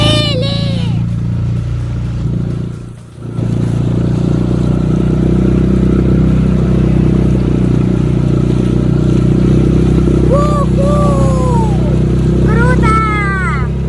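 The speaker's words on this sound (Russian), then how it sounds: "Вот мы завели моторчик." An outboard motor on a BARK BT 310 inflatable boat runs steadily with a loud, continuous mid-pitched drone, close by, while voices speak over it at the start and near the end.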